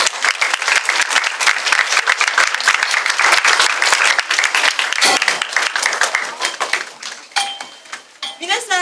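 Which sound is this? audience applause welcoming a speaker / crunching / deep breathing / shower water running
audience applause welcoming a speaker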